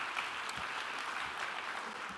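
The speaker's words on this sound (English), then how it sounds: "Let's give them a round of applause." A conference audience gives a round of applause at an NCAI mid-year gathering, steady dense clapping filling the room at even loudness throughout, with no voices over it.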